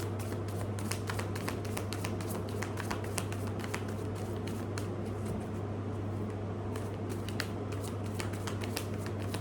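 Tarot cards shuffled by hand, with rapid rhythmic riffling and tapping repeating continuously over a low steady hum.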